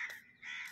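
Two harsh caws from a crow in a park, faint and somewhat distant, the calls separated by a short pause.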